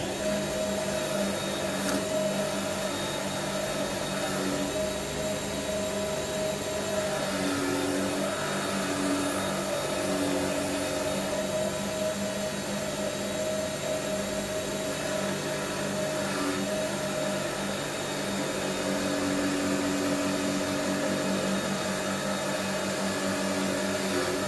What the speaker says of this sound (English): I'm just going to run this on the wire wheel and unclog it.